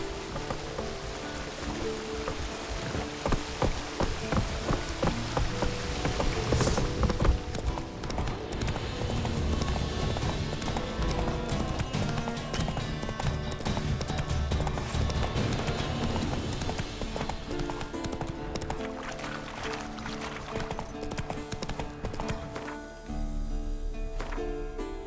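Roach the horse galloping in The Witcher 3, a steady rapid drumming of hooves sustained for most of the stretch, loud and close, with a brief change near the end.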